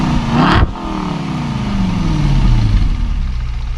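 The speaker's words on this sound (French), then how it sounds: "la voiture démarre." An Aston Martin Vantage V8 fires up with a sharp starter burst, then the engine revs and its note sweeps downward as it settles toward idle, loud and close with no talk.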